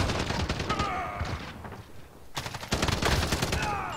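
Holger-26 light machine gun firing in Call of Duty: Modern Warfare, fast sustained bursts with a short lull in the middle, then another heavy stream of shots.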